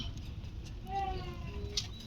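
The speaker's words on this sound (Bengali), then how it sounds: "এখানে এক জোড়া লক্ষা, সাদা কালারের এক জোড়া লক্ষা ডিমে তাও দিচ্ছে" A pair of white lakkha (fantail) pigeons sitting on eggs coo softly in a loft, a faint low murmuring call rising mid-clip over steady background noise.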